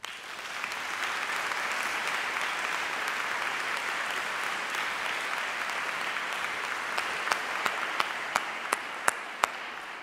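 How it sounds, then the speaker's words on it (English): Audience applause at an honors convocation: dense, sustained clapping from a crowd that carries on for about ten seconds, with a few sharper, louder individual claps standing out toward the end. "give them a round of applause again"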